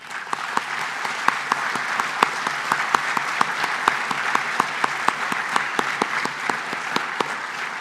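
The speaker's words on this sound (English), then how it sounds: "would you please stand to be recognized with a round of applause" An audience claps steadily in a conference hall, honoring former members of the Aircraft Electronics Association board of directors, with sharp individual claps standing out over a dense, sustained round of applause lasting throughout.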